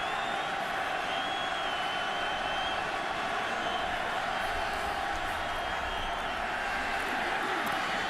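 A packed NFL stadium crowd at a 2011 Raiders at Bills football game keeps up a steady, dense roar throughout, while a commentator talks over it.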